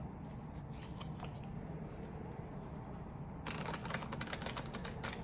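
Tarot cards handled and shuffled for a reading: a soft papery rustle at first, then a louder, denser burst of riffling cards toward the end, close by with no voices.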